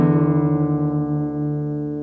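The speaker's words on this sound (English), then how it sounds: "play the 6th string along with it while detuning it until you hear them" Two sustained plucked guitar notes ring together, the low sixth string being detuned so the pitches waver and beat slightly as they settle toward one another; no talking.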